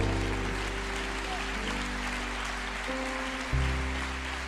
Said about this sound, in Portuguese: E a igreja aplauda o Senhor.